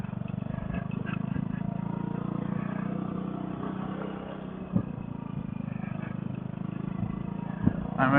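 Engine of a big Ruckus scooter riding off-road, a continuous low drone and rattle heard close from the rider's position, with occasional bumps and knocks over rough ground.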